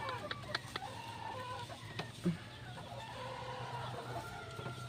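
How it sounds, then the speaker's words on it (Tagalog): Faint mother hen clucks and scattered chick peeps over a low steady hum, with a few louder clucks in the middle. "Yan ang nanay ng mga sisiw natin."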